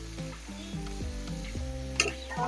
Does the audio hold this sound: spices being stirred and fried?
yes